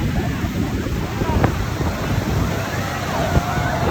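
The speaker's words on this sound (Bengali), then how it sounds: "চারিদিকে উতাল পাতাল ঢেউ" Rough, churning sea surf at Sugandha beach in Cox's Bazar roars as a continuous broadband wash with wind buffeting the microphone, loud and close, no clear single wave breaks.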